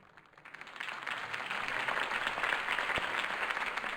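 Crowd applause at a political campaign rally for Harvey Dent in the Batman Telltale Series game, swelling from quiet into a steady, moderately distant roar of clapping with no voices over it.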